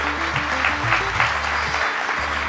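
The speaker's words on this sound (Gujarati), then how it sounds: "એકવાર ફરીથી આ બધા જ મિત્રોનું તાળીઓના ગડગડાટથી મિત્રો સ્વાગત કરીએ" A hall audience at a Gujarat state principals' association convention bursts into a dense, loud round of clapping that carries on steadily for a few seconds over a low background hum.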